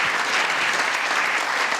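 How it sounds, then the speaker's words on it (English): An audience at a live comedy show breaks into applause, a dense, steady wash of clapping that stays loud and even throughout. "Can we have a huge round of applause for Steve?"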